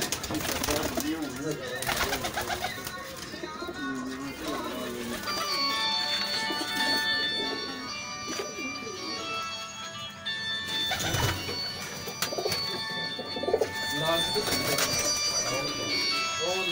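Pigeons at a rooftop loft during a pigeon-flying tournament near Daska Road, Sialkot, cooing and calling steadily amid busy background noise while people talk throughout.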